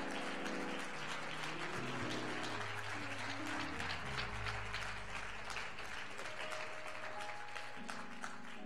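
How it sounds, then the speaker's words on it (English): Congregation applause during a church service, a continuous spread of clapping under sustained organ or keyboard chords that shift in pitch throughout. "I think he deserved another round of applause."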